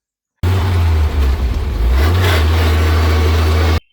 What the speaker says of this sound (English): Her first gear's very dry. Well, it sounds dry.